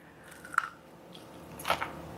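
Two crisp, close bites into a crunchy air-fried snack, separated by a short pause with faint chewing, against a quiet background.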